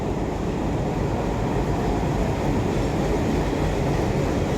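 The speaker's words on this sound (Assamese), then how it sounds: "আপোনালোকে ট্ৰেইন অহাৰ গোটেইখিনি দৃশ্য আপোনালোকে ভালদৰে চাই থাকক" A train arriving at a railway platform rumbles steadily and loudly close by, a continuous heavy roll of wheels and engine noise with no break.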